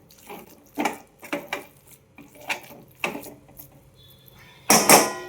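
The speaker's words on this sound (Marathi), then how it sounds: "आता पाणी घालते" Water is poured in short splashing bursts into a gram flour and fenugreek vegetable mixture in a home kitchen, several close pours followed by a louder final splash.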